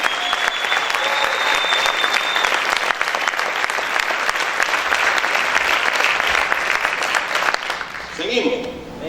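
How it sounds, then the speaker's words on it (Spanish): A church congregation claps loudly and steadily in sustained applause, with a few voices and cheers mixed in, before the sound trails off near the end. "¿Cuántos pueden aplaudir fuerte al Señor?"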